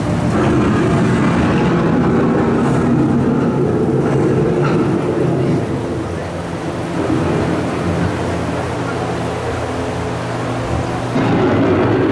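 Thunderstorm with steady heavy rain and a continuous low rumble of thunder, loud and close throughout, with the roar swelling and easing slightly and no voices.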